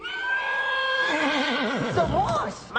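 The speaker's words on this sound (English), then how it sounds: "The horse." A horse gives a loud, close whinny that rises and then trembles down in pitch, in a staged fairy-tale production of Puss 'n Boots, with a faint clop near the end.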